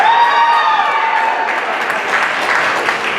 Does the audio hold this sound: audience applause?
yes